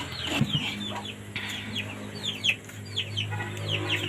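Chickens cluck and chatter in a farmyard, with repeated short calls from several birds close by over a steady low background hum.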